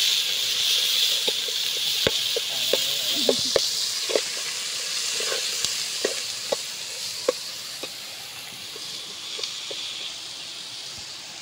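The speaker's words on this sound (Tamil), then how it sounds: "வெங்காயம் சீக்கிரமாக வதங்கிறதுக்காக பொன்னிறமாக வர வரைக்கும் கொஞ்சம் வதக்கி விடுங்க நல்லா" Lightly salted onions sautéing in a pan for a Tamil chicken gravy give a steady, moderate sizzle, with scattered clicks and scrapes from stirring throughout.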